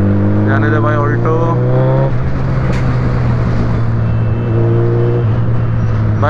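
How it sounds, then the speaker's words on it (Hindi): Suzuki Hayabusa motorcycle engine revving loudly and close in heavy city traffic, rising and falling pitch sweeps over a constant engine drone with other vehicles around. "1999 से रास्ते पे ये गाड़ी राज कर रही है, द सुजुकी हायाबुसा"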